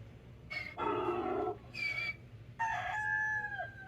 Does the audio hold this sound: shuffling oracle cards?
no